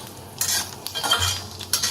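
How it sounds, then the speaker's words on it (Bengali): Puffed lotus seeds (makhana) frying in a pan give short bursts of light sizzling and scraping as they are stirred, with brief pauses between strokes. "মাখানাগুলোকে ব্যাচ বাই ব্যাচ ভাজব।"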